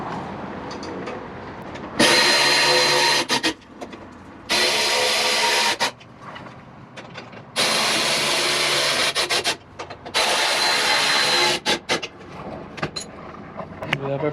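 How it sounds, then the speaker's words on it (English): Nuts and bolts being tightened on plastic floorboards of a Can-Am Renegade, heard as repeated loud buzzing bursts of a couple of seconds each, separated by brief gaps of quieter rubbing. "Now we're going to tighten the nuts and bolts from the plastic."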